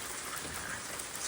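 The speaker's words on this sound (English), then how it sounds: "So we're having a hailstorm." A hailstorm of small wet ice pellets falls outdoors, producing a dense, even, quiet patter and hiss with no distinct impacts and no voices.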